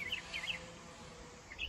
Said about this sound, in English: Different kind of birds.